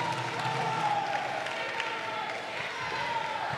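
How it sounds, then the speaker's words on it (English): Chargers fans in a jai-alai arena crowd cheering and clapping during a championship match against the Cyclones, a steady, moderately loud mass of spectator noise with a few whistles and scattered claps. "And the Chargers fans starting to hear them in the crowd"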